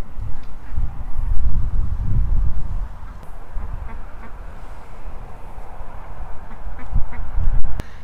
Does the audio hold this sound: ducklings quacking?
yes